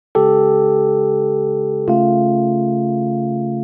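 Two sustained synth chords built from pitch classes taken from Einstein's dates, each struck once and held, loud and clean with a gentle decay, the second following the first after a short pause.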